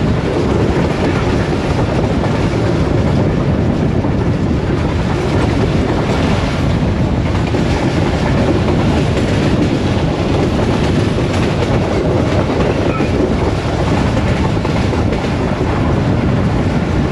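The 102 Down Subak Raftar train passes through Kakhar station at speed, heard from inside a coach as a loud, constant roar of wheels and rushing air with faint rhythmic clatter.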